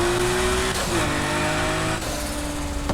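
Nissan R34 GTR in the racing video game Need for Speed Heat, tuned for an aggressive, throaty, raw exhaust note: a loud, continuous engine drone with gear shifts and pitch changes, no talking.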